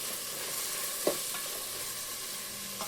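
Green chillies sizzle steadily in hot oil in a home kitchen, a close, continuous frying hiss with one brief clink of a stirring utensil and no voices.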